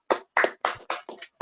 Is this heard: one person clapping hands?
yes